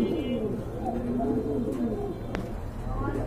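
Pigeons coo at a pigeon market, a run of low, rolling coos close by over steady crowd murmur and faint voices, with one brief sharp click partway through.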